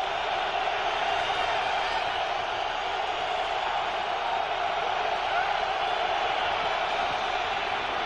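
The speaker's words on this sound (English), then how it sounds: "The crowd comes alive as Pittsburgh looks at a third and four from the 11." Broad, steady roar of a football stadium crowd at a 1998 Steelers at Lions NFL game, a constant wash of voices and cheering that holds at even loudness for the whole stretch with no breaks.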